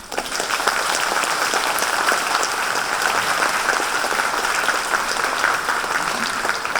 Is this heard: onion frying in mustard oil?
no